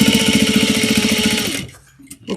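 A sewing machine stitching a mini holiday stocking runs loud and close with a fast, even mechanical whirr for about a second and a half, then stops, leaving brief faint handling sounds.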